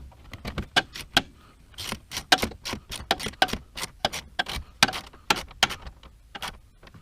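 Tightening down a fog light on a 2014 Ram 1500 truck: a rapid run of close, sharp metallic clicks and ratcheting ticks, uneven in rhythm, continuing for several seconds with no talk.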